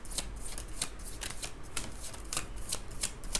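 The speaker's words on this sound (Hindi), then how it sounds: "शफल करके जितने कार्ड्स आएंगे ना वही कार्ड्स लूँगी" Tarot cards are shuffled close up, giving a steady run of quick papery riffles and flicks, faint and continuous with no voice.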